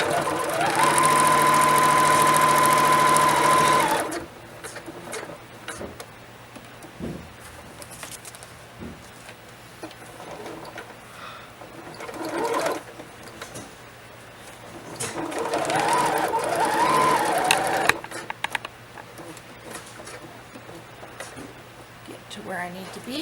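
A sewing machine stitches a Dollar Tree zipper bag for nail polish, starting with a loud steady whir for several seconds, then falling into quieter starts and stops and a second short run of stitching, with a voice talking between bursts.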